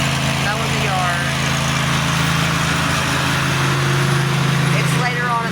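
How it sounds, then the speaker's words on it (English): A lawn mower cutting a yard in the evening: a steady, droning engine hum that runs unbroken at an even level, with talk over it. "now it's evening time and he's doing the mowing"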